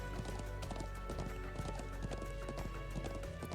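Horse hooves clip-clop in a quick, even rhythm close by in the video game Trails of Cold Steel II, steady for a few seconds with no pause.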